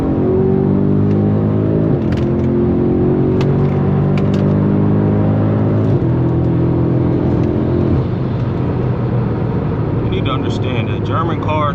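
A BMW M5 Competition engine pulls hard under acceleration, a loud, steady, droning roar with rising harmonic tones heard from inside the car, climbing through gear changes while someone speaks over it.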